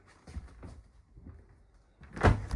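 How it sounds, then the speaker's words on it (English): Close by, the door of a residential refrigerator fitted in a Grand Design Reflection 311BHS RV is handled and swung open, with soft bumps and then a louder thud and rattle near the end. "So this door can open"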